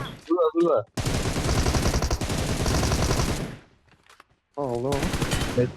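Dense automatic gunfire from PUBG Mobile, a loud sustained burst of rapid shots lasting a few seconds, with brief speech before and after the volley.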